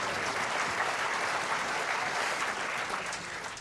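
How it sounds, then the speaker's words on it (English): Audience applause at a climate change lecture in Melbourne, an even wash of clapping at modest level from a seated crowd, easing slightly near the end. "Come on, a round of applause because you were honest."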